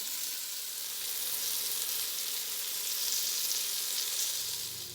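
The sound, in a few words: beef tips browning in a pot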